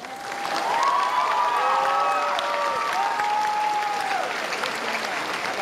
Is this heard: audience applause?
yes